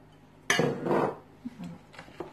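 A spoon stirs Tunisian tajine ingredients, including cheese pieces and potatoes, in a pot, starting with one sharp clatter followed by softer scraping and a few light clinks.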